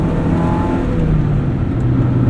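A 1996 Mazda MX-5 Miata's engine hums loudly and steadily from inside the cabin while driving, a sustained revving drone with a slight pitch rise and no talk.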